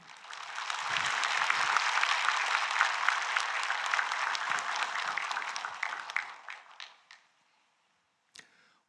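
A church congregation claps for a pastor as he comes forward. The applause is dense and sustained, fades out after about seven seconds, and is followed by a lone faint click.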